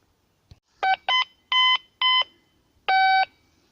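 Five short electronic beeps in an uneven sequence, each a clean tonal bleep, loud and close with silence between them.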